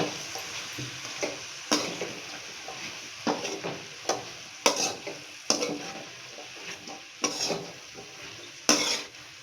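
Broad beans sautéing in hot oil, a steady sizzle broken by repeated scraping stirs of a spoon against the pan at a slow, regular rhythm, close and moderately loud with no voices.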